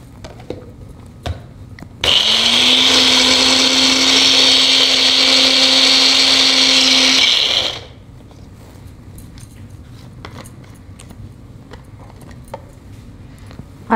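A mixer grinder whirs loudly as it grinds a green tomato mixture, running about five and a half seconds at a steady high-pitched drone before winding down, with quieter handling clatter around it.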